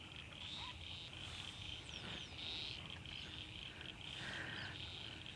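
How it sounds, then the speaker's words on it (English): Frogs croak and insects or birds chirp continuously in quiet countryside, a steady dense chorus of calls layered over a constant low background, moderately distant. "Generally the only sound here is the birds and the frogs"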